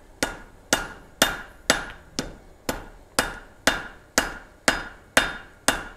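A hammer strikes hot metal on an anvil, forging a short blunt taper, with twelve sharp, evenly spaced ringing blows close by and no talk between them.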